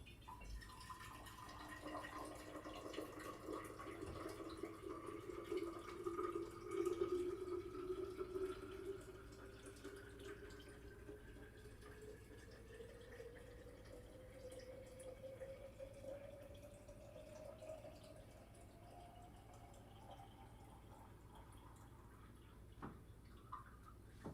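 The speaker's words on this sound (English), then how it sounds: "I'm going to walk across the room and get water out of my water filter" Water pours from a water filter into a vessel, a faint, steady trickle whose pitch rises gradually as the container fills, heard from some distance in a quiet room.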